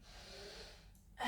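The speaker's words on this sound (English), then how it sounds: "Breathe in" Pilates instructor's audible inhale during a beginner mat workout, a soft, airy breath close to the microphone lasting about a second, followed by a brief louder onset.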